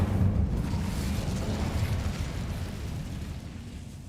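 A fire spell cast in the Hogwarts Legacy video game lets out a dense, rumbling whoosh of flame. It starts strong and fades slowly over about four seconds, alone, with no talk.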